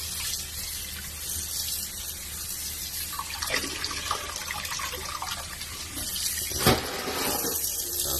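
Red bladderwrack seaweed being washed in a pot of water, with steady running and sloshing water, a brief louder splash near the end, and no talking.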